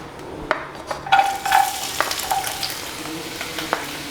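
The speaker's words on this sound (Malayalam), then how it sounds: "ഞാൻ ഇതിനകത്തോട്ട് ഇഞ്ചിയും വെളുത്തുള്ളിയും അരിഞ്ഞത് ചേർത്ത് കൊടുക്കുകയാണ്." Chopped ginger and garlic hit hot coconut oil and sizzle loudly, with a few stirring scrapes as the frying hiss settles into a steady crackle.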